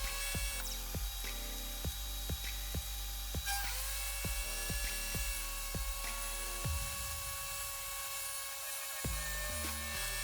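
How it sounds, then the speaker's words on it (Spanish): A table saw with a crosscut sled cuts thin wooden strips meant as parallel guide rails. Its loud, steady motor whine runs throughout, broken by regular knocking thumps as each pass goes through. No voices. "voy cortando unas maderas para que hagan de guías paralelas"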